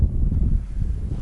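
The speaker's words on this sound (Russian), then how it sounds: "На улице ветрено" Wind gusts outdoors in a forest on a cool, blustery day, buffeting the microphone as a steady low rumble that persists for just over a second, with no voices.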